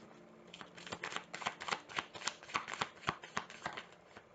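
Tarot cards shuffled by hand, a steady run of crisp riffling flicks and slaps repeating about every third of a second, close and clear with no talking over it.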